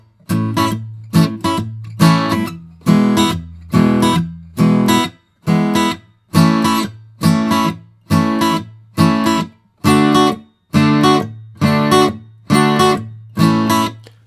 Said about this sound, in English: after I strum down, I'm very quickly strumming back upwards